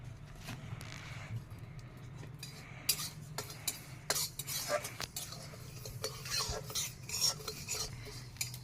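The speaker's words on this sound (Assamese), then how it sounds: "এইফালে কেৰাহীখন পাতি লৈছোঁ মচলাখিনি ভাজি ল'ম" A spatula stirs cumin, coriander and other dry spices roasting in a wok, giving scraping, clinking strokes in an irregular rhythm that grow busier partway through, close and fairly quiet over a low hum.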